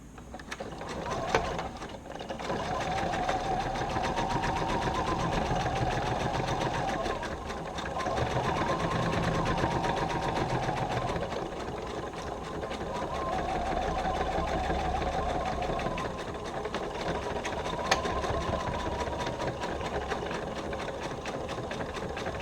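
A sewing machine stitches a shoulder bag lining in long, steady runs with brief slowdowns, its even mechanical whir close and continuous, with small clicks of handling between stretches.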